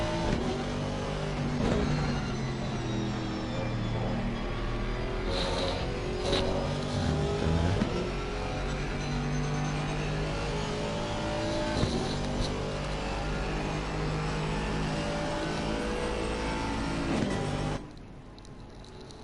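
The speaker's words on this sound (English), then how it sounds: "the Aston Martin pops and bangs like nothing else" An Aston Martin GT3 race car engine in a racing video game at Monza drones and revs continuously at high pitch, with shifting tones and occasional pops, until it cuts off abruptly near the end.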